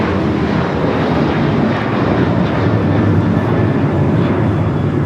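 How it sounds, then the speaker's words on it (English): A Swiss airliner takes off from the south side runways at Los Angeles International Airport, its jet engines producing a loud, steady, broadband roar that holds for the whole stretch, with no voices. "So Swiss looking like it's a south side takeoff."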